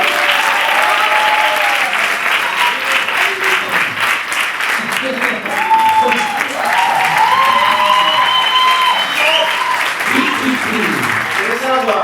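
An audience applauds steadily for a song's composer at a live performance, a broad wash of clapping throughout, with people talking and calling out over it.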